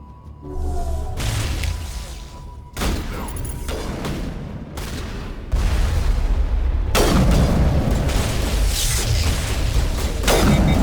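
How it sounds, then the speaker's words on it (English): A grenade blast in Mass Effect 1 Legendary Edition on PS5, amid heavy combat: loud booms and crackling bursts of weapon fire layered over constant battle noise, rising to a dense roar toward the end. "she's handy with that grenade"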